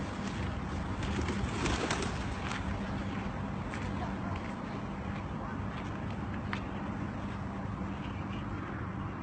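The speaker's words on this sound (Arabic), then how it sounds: "شوف الحمام عم يحاول يقترب منها." Pigeons coo softly over a steady outdoor background as they approach seeds scattered on the ground, with a voice speaking faintly at times.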